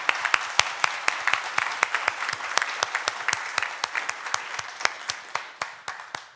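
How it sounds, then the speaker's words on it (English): A small audience at a Rotary Club lunch program claps, with distinct sharp individual claps in a loose, thinning rhythm, close and moderately loud, no voices. "Can you just join me in giving Alessandro and John a round of applause?"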